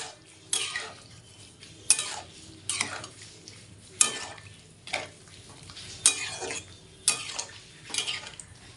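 Mustard paste being stirred through a fish curry in a pan, with a utensil scraping and clinking against the metal in roughly once-a-second strokes over a soft sizzle, close and moderately loud with no talking.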